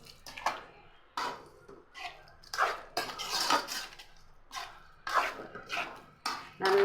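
Ridge gourd kootu stirred in a metal pan, heard as repeated close scraping and clinking of a spoon against the pan in an irregular rhythm, with no talking.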